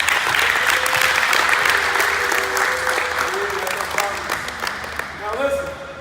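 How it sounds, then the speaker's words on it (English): Applause at a basketball camp session in Beirut, sharp individual claps from a group ringing out in a busy, lively burst, with voices calling out and chatting throughout as the clapping gradually thins toward the end. "Clap it up"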